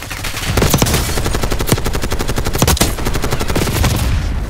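Rapid automatic gunfire in Call of Duty Black Ops 6 multiplayer on the Skyline map, loud dense bursts of machine-gun fire with sharp individual cracks rising over a steady din, no voices.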